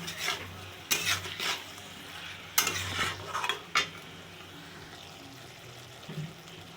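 Pressure-cooked chickpeas and potatoes being stir-fried in oily spice masala, with a few sharp spoon scrapes and clatters against the pot over a soft background sizzle, fading quieter toward the end.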